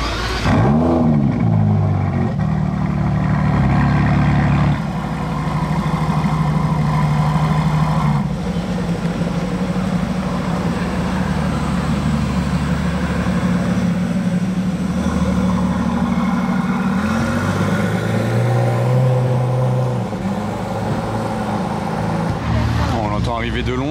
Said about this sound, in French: Arrivé de loin cet Aventador là. Résonne. Pas d'origine la ligne